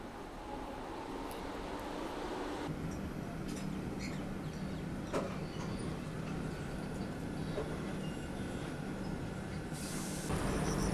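The Dibrugarh Rajdhani Express departs and rolls along, heard from inside a 2nd AC coach as a steady, close rumble of wheels and carriage noise with a few light clicks and knocks.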